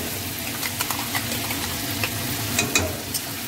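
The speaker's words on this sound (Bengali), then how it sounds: "তারপর ওই তেলে আমরা মশলাটা দিয়ে দিলাম।" Spice paste hits hot oil for a Bengali magur fish curry with drumstick and potatoes, giving a continuous close sizzle broken by scattered sharp crackles and spatters.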